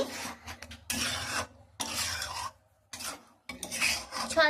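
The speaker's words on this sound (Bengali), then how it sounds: "এখন আমি চিকেনটা এর মধ্যে দিয়ে দিচ্ছি এখন ভালো করে নেড়ে আমি" Chicken being stirred into a butter chicken gravy makes bursts of scraping and rubbing from a utensil against the pan, separated by short pauses.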